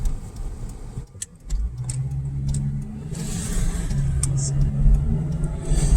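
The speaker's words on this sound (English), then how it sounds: "My friend Sunil and I are on the way to Skyline Chili." A car drives along a road in Ohio near West Chester, heard from inside as a steady engine hum with low tones that rise and shift, plus scattered light rattles and clicks.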